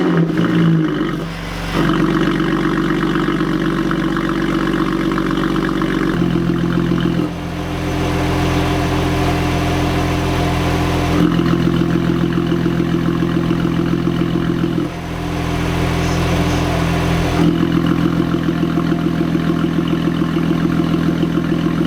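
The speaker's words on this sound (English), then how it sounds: "I will start it up once I finish getting everything back together so you guys can just hear that initial startup sound." A Lotus Evora 400 with a decat exhaust fires up and settles into a loud, close, steady idle, its drone shifting in level every few seconds as the revs settle, with no talking.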